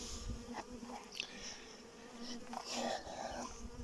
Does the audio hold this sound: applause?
no